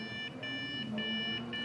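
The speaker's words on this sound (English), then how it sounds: "It's beeping." A newly built Intel desktop PC gives off a series of short, high electronic beeps in quick pairs, repeating at a steady rhythm over a faint low hum in a quiet room.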